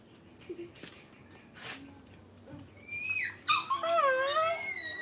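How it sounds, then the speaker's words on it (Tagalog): A dog whimpers and howls, starting with faint whines and then rising into a wavering, fairly loud howl over the last two seconds, with quiet room sound underneath. "And we also have a dog."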